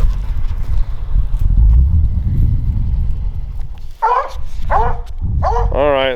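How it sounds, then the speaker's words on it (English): Coon hunting hounds on a trail in southern New Mexico give a few spaced barks and bays in the latter half, over loud rumbling outdoor noise. "So dogs struck for the 3rd time tonight."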